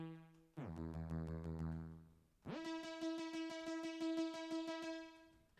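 A bright, buzzy synth lead built from a nearly perfect sawtooth slice of a vocal sample plays two sustained notes, each opening with a quick pitch slide, rather soft and without talk.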